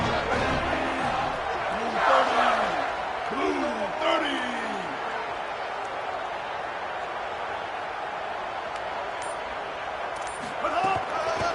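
A stadium crowd roars in a college football video game, a dense, loud wash of cheering that swells in waves, with shouts rising early and then settling into a steady roar.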